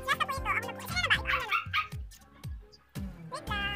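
A dog barks repeatedly nearby in a home, a run of sharp, yappy barks mixed with people talking.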